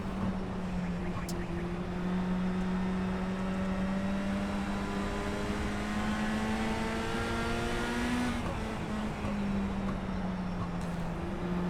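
Dirt race car in the iRacing game, K5 Super Dash Series at Volusia: a steady high engine whine holding pitch, rising slightly, then dropping as the throttle eases near the end, continuous and alone.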